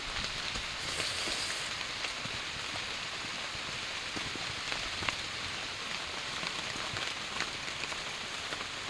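Steady rain pours down in a village, a dense, even hiss of drops on surfaces lasting throughout with no voices.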